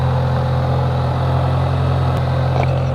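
A boosted Toyota Celica engine runs at a steady idle, a loud, constant low hum with a strong fundamental tone and no change in pace.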